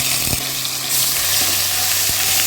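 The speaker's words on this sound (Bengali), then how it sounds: "একটা শুকনো লঙ্কা আর একটু গোটা জিরে দিয়ে দিচ্ছি, রসুন বাটা, পেঁয়াজ বাটা।" Dry red chili, whole cumin, garlic paste and onion paste frying in hot oil, a steady loud sizzle with a brief stir or two, close and without talk.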